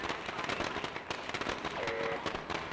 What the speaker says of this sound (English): Again, the little cheese firecracker distraction.